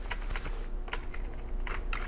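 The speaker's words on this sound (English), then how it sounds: "just gonna hit F12 on my keyboard a whole bunch of times" Someone repeatedly taps the F12 key on a computer keyboard attached to an old Dell Inspiron 620 desktop, with a quick series of separate clicks over a low steady hum.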